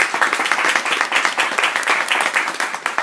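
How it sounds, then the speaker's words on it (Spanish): A book-event audience welcomes an author with a strong burst of applause, close, busy clapping that fills the whole three seconds. "Sí me gustaría que la recibiésemos con un fuerte aplauso."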